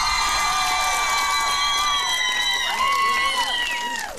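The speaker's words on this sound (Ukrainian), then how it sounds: "Під ваші бурхливі оплески" Audience at an outdoor karaoke show on a town square cheering and shouting while a medal is presented to a folk singer, a steady crowd roar throughout with whistles or whoops rising near the end.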